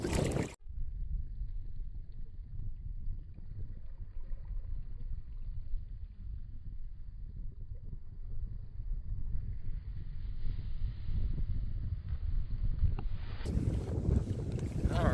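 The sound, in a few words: wind blowing while kayaking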